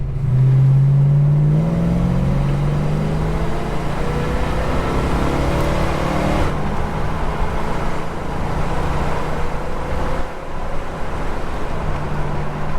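A Holden HK car engine is revved toward 4000 RPM, its pitch climbing in the first seconds before settling into a loud, close, sustained roar with a brief dip near the end.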